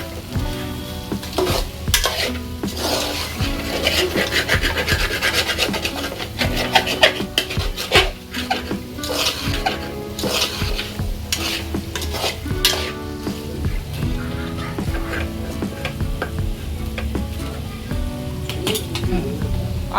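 Homemade restaurant-style chicken roast is stirred and scraped in a sizzling pan. Rhythmic metallic rasps and clinks repeat over a steady frying hiss for the whole stretch.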